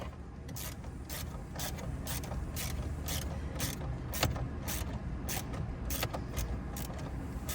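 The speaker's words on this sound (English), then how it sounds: "take your wrench, go back up in, get on it, and you're just going to tighten this all the way back up" Rapid ratcheting clicks from a wrench tightening the screw of a direct-fit phone mount inside a 2013-2018 Acura RDX, repeating in steady close bursts over a low mechanical hum.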